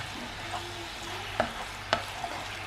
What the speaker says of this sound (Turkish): Şöyle bir karıştırayım.